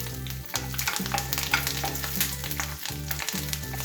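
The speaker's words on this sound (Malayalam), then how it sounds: "ഒരു ഫ്രൈങ് പാനിൽ വെളിച്ചെണ്ണ ചൂടാക്കിയിട്ടുണ്ട്. അതിലേക്ക് വെളുത്തുള്ളി, കറിവേപ്പിലയും പച്ചമുളകും ഇട്ട് കൊടുക്കണം." Garlic, curry leaves and green chilies sizzle and crackle steadily in hot coconut oil in a frying pan, a close, continuous fry with occasional stirring and no talk.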